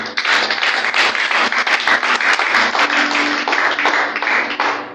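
A church congregation applauding during worship, dense sustained clapping from many hands, loud and close, with faint voices underneath.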